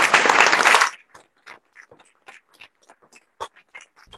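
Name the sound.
audience clapping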